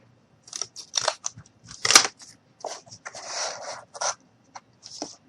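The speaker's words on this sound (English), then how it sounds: "So I'm just going to trim off a bit more." Scissors snipping through cardboard to trim an oven rack for a miniature cardboard stove, a series of close, crisp cuts in irregular bursts with short pauses between.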